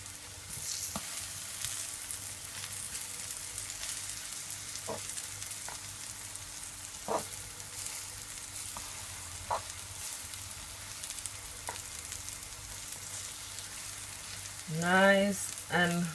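Ripe plantain slices fry in a pan with a soft, steady sizzle and occasional faint clicks of turning, quiet and close, ending in a brief louder spatter.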